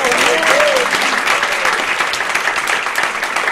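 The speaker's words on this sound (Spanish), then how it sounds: "¡Aplausos!" An audience at a storytelling and singing event applauds, dense steady clapping loud and close throughout, with a voice briefly audible over it at the start.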